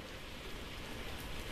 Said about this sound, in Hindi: ये बारिश हो रही